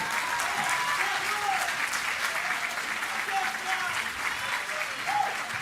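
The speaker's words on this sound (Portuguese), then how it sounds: "Palmas e mais palmas e mais palmas e mais palmas!" Steady audience applause fills a Brazilian school culture panel event, dense and sustained throughout with a few voices calling out and cheering over the clapping.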